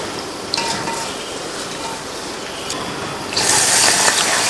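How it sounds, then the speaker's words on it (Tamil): Rice and toor dal are swished and rubbed by hand in a bowl of water, a continuous gritty, splashing swirl that grows louder and more watery near the end. "இதை 2 தடவை வாஷ் பண்ணிவிட்டு"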